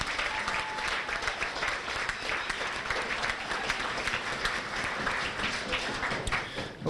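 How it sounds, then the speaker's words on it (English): Sustained applause from an audience at a high school fall sports banquet and awards ceremony, steady dense clapping throughout at moderate level with no talk over it. "Nice round of applause for those ladies."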